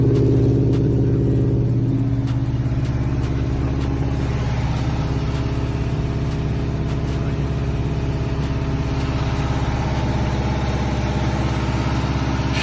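A Subaru WRX with a suspected broken center differential runs while its right rear wheel spins, producing a loud, steady engine drone and low rumble that holds unchanged throughout, with no talk.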